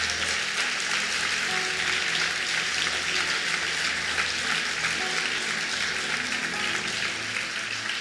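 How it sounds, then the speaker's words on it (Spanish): A church congregation applauds loudly and continuously, a dense wash of clapping hands filling the room for the whole stretch. "Dele un fuerte aplauso al Señor"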